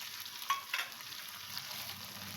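Tomato and green chilli paste frying in a pan for green jackfruit kofta curry, a soft, faint steady sizzle with a couple of light stirring clicks early on.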